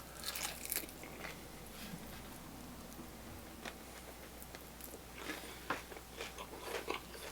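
Crunchy chicken wings are bitten and chewed close up, with sharp, irregular crunches and crackles over quiet background and no talking.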